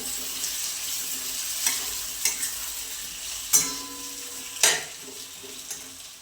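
Chunky potato curry in a black masala is stirred in a pan, with a soft simmering sizzle beneath and five or six distinct scraping strokes of the spoon spaced a second or so apart.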